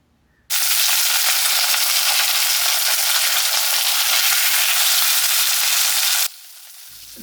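Vatta fish (trevally) fries in a pan with a loud, steady, close sizzle that starts abruptly and runs for about six seconds before cutting back to quiet.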